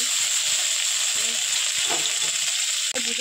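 Dried red chilies, Bengali five-spice and bay leaf sizzling in hot oil for aloo kabli, a loud, steady frying hiss throughout with faint stirring clinks underneath.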